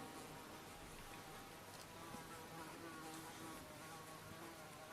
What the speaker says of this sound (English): I apologise for the buzzing fly,